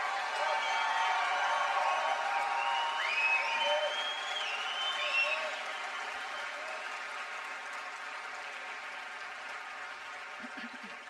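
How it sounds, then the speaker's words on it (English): High school graduation audience in a cap-and-gown ceremony hall applauding and cheering for the class of 2024, a sustained, fairly distant roar of clapping with whistles and shouts rising above it, fading gradually. "if you can join with me in a round of applause, congratulations, graduates of 2024"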